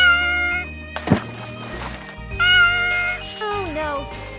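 A cartoon kitten gives several high, sing-song meows in a children's nursery cartoon, with a sharp hit partway through and falling, sliding cries near the end, all over bright background music.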